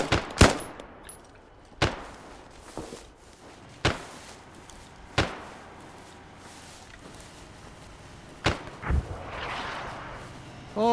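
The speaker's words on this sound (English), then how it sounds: "Mortar!" Mortar fire in the military video game ArmA: several sharp booms land at irregular intervals, some close and loud and others farther off, with faint rumble between them.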